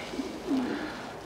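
A white racing pigeon gives a soft, throaty coo, a brief murmur followed by a longer rolling call, faint and close in a quiet loft.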